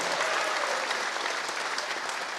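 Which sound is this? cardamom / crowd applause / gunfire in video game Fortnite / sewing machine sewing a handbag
crowd applause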